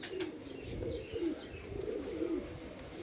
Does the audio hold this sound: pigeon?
yes